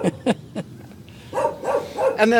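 Neighbourhood dogs bark outdoors, with a few sharp barks at the start followed by a string of yelping, whining barks that build toward the end, loud and close.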